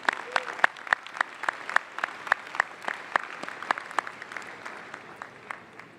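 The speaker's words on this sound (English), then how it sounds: "How about one more round of applause?" Audience applause at an MBA commencement ceremony, with fairly sparse, distinct hand claps repeating steadily and fading slightly toward the end, heard in a large hall with some murmuring underneath.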